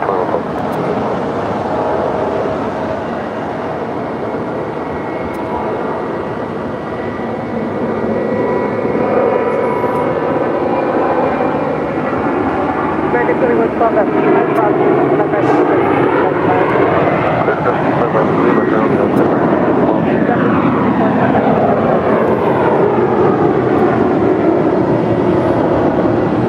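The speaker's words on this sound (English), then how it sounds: "It's American Airlines Flight 2112 coming in from Dallas, Texas. It's an A321." An American Airlines Airbus A321 arriving from Dallas taxis at LAX with a steady, loud jet engine roar and a shifting whine that stays close throughout.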